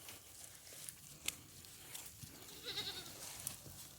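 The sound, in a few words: goats bleating on a small farm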